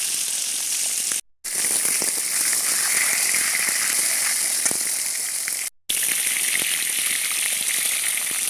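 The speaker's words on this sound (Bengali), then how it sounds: "মাছ ভেজে নেব।" Fish fries in hot oil on a stove with a loud, continuous crackling sizzle, broken by two very brief gaps.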